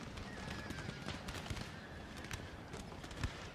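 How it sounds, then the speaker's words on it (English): Cavalry horses in a Napoleon: Total War battle, with hooves, whinnies and scattered musket fire mixed into a dense, continuous battle din. "The horses are being butchered, which is what we need"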